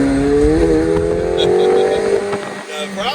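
A 2022 McLaren 720S accelerates hard, its engine note climbing steadily and droning loudly through the cabin, with someone talking over it.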